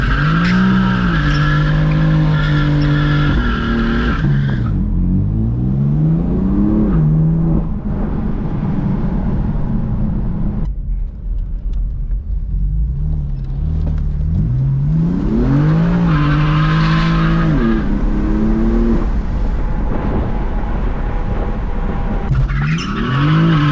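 A BMW M4 does a burnout, the engine roaring at high revs while the tires squeal and scrub continuously and loudly, the pitch rising and falling over two long bursts.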